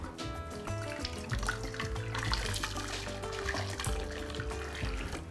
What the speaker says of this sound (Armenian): Տապակի մեջ լցնում ենք եռացած ջուր մի փոքր։